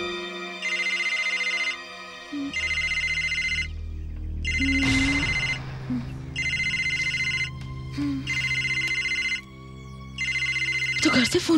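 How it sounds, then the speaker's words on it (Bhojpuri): A telephone rings in a repeating pattern of bursts separated by short gaps, loud and close, with other sounds and voices between the rings. "तो घर से फोन बा।"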